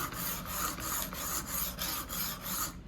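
A knife is sharpened in quick back-and-forth strokes, making a rhythmic rasping scrape about three times a second at a moderate, close level, with no talking.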